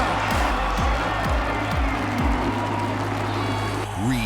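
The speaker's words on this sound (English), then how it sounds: "The crowd on his feet." A supercross stadium crowd in Atlanta roars and cheers steadily as Chad Reed takes the win, a dense wash of noise with motorcycle engine revs sweeping past underneath.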